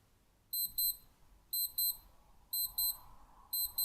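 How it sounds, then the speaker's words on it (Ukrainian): A high, thin electronic alarm from a Skmei quartz wristwatch beeps in repeating bursts of four quick chirps, about once per second, clear and close against quiet. "можна послухати тестове спрацювання будильника"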